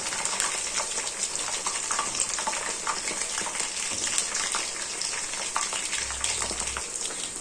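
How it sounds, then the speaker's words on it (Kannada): Soya chunks or gobi manchurian sizzle steadily over a high flame, a dense, continuous crackle of hot oil with scattered sharp pops and no voices, close and fairly loud throughout. "ಚೆನ್ನಾಗಿ ಐ ಫ್ಲೇಮ್ ಅಲ್ಲಿ ಇದನ್ನ ನೀಟಾಗಿ ಫ್ರೈ ಮಾಡ್ಕೊಳ್ಬೇಕು"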